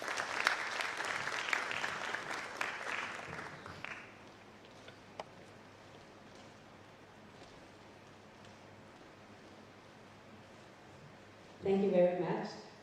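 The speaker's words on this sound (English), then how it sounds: "Please clap for her." An audience at an international relations and diplomacy career forum claps for the deputy director of a foundation, a fairly loud burst of applause that fades after about four seconds into quiet room noise, with a short noisy bump near the end.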